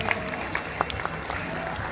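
Scattered applause from an audience at a Tulsi Vivah celebration with a devotional bhajan and bhavgeet performance, a steady patter of clapping hands spread through a crowd beneath a faint murmur of voices.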